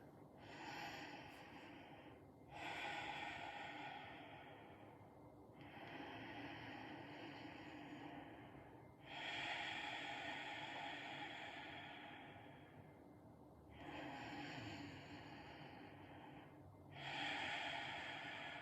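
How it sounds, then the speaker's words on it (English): Long, deep breaths drawn in and pushed out through the right nostril only, a close, airy rhythmic cycle of roughly six slow inhales and exhales with no talking. "start breathing long and deep through your right nostril only"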